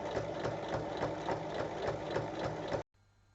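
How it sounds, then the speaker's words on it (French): A sewing machine topstitches fabric for a small zippered pouch, a fast, even run of needle stitches with a mechanical chatter, close and steady, then stopping abruptly before a short near-silent pause. "On ouvre et on fait une surpiqûre."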